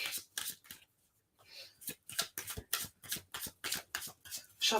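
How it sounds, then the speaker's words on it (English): Tarot cards are shuffled in a steady run of quick riffling bursts, close up and crisp, with a brief pause early on and faint talk underneath. "Shuffle. Okay, Eric. Shuffle"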